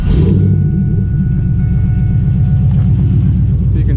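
A 2001 Pontiac Trans Am V8 with 101,000 miles and a Speed Engineering exhaust rumbles into life and settles into a deep, steady running drone, loud and close.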